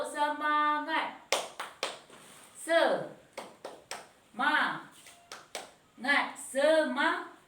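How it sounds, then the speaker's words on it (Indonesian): A class of pupils claps a rhythmic spirit-clap pattern indoors, several bursts of quick patterned claps alternating with children's voices chanting and talking between them. "Tepuk semangat."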